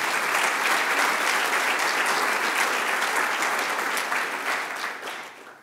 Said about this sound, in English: Perhaps you could give them a round of applause.